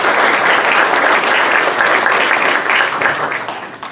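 An audience clapping for faculty at a dean's semester address, a dense steady round of applause that fills the room and tapers slightly at the end.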